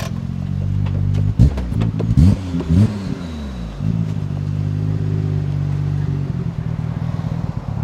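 Nissan RB26DETT with an aftermarket muffler and cams revs hard, loud and close, with a lumpy, choppy idle between sharp throttle blips.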